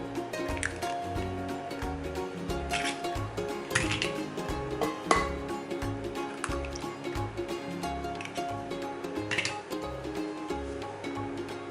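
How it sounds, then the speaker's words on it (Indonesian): Blended granulated sugar and two eggs whisked in a bowl, a steady, close run of rapid wet slapping and clinking strokes against the bowl that keeps going without pause. "Kita kocok sampai gulanya larut."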